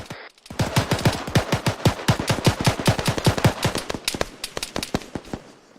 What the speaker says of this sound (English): Taking shots from the east.